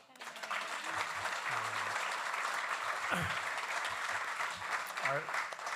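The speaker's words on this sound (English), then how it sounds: "Lauren, let's give a round of applause for Lauren." Audience applause for Lauren at a startup demo night, moderate steady clapping from the room, with voices and brief sounds breaking through over the top.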